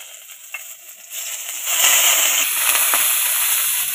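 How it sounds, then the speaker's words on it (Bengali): Garlic, green chilli and curry leaves frying in hot oil, a steady close hiss and sizzle that swells after a moment and holds, with faint crackles on top. "এগুলো আমি একটু হালকা করে ভেজে নেব।"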